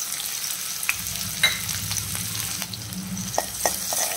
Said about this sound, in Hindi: ऑयल हमारा गरम हो चुका है, उसमें हम बारीक कटा हुआ प्याज डालेंगे।